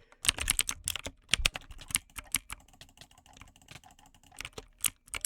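Loud mechanical computer keyboard typing during a video game, with irregular bursts of sharp, clacky keystrokes, close and dry, with short pauses between flurries.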